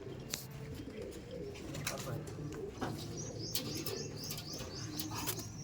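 Madrasi pigeons coo faintly in a low repeated rhythm, with chirps, light wing flaps and other birds nearby, soft and close with no talk.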